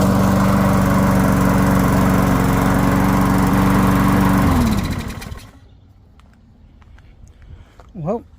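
A Briggs and Stratton lawn mower engine with an auto choke drones loudly and steadily up close, then winds down and cuts out partway through, leaving near silence with a brief faint sound at the end.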